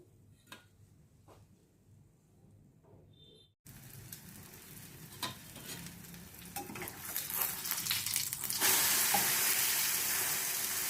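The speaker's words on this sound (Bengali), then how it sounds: "একটা ভেজে দেখাই" Bread pakora fries in hot oil with a steady, close crackling sizzle that starts abruptly after a quiet moment and swells louder toward the end, with no talking.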